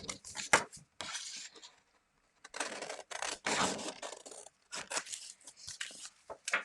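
Scissors snip through card in several short, close bursts separated by brief pauses, with light paper rustling and no voices.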